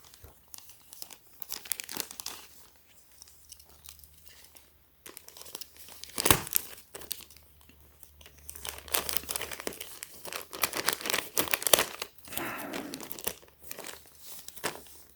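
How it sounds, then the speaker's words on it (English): Plastic packaging for a Supreme tee crinkles and crunches near the mic, with bursts of tearing and rustling that come and go in uneven waves, and no talk over it. "So let's go ahead and cut this open and then show you guys."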